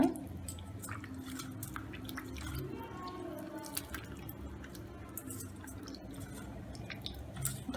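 Wet squelching and squishing of soaked tamarind being kneaded by hand in water, with small drips, close and fairly quiet, steady throughout.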